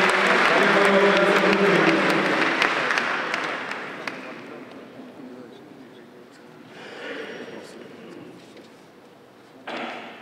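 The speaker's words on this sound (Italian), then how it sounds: "Bocca al lupo, applauso." Applause from an audience at a cycling awards ceremony, loud and dense for the first few seconds, then thinning to scattered claps with a brief swell near the end.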